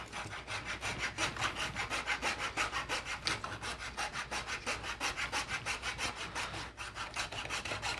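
A hand saw cuts excess wood off a tree branch being shaped into a crochet hook, with steady rhythmic back-and-forth rasping strokes of about two per second, close and clear, with no talking.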